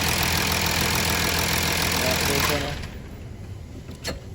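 Audi A6 3.0 V6 TDI diesel running with a loud, steady clattering rumble that drops to a quieter idle partway through, with a brief knock near the end and a voice heard over it.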